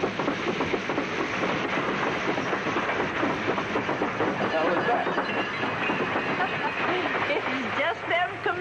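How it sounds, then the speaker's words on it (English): A passing train rumbles and clatters steadily at close range, with rail clickety-clack running beneath overlapping voices for the whole stretch. "Trains, Mr. Holloway."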